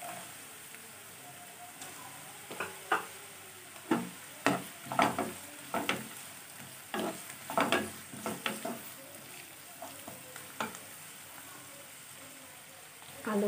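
Chopped bottle gourd peel frying in a pan for an Assamese vegetable dish, with a steady sizzle and repeated sharp stirring scrapes and clatters throughout.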